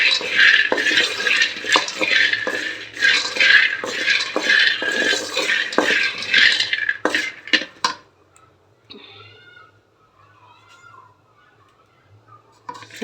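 Peanuts roasting in a pan while a spatula stirs and scrapes against the metal, a dense run of clattering strokes that stops abruptly partway through, leaving only faint, scattered kitchen sounds.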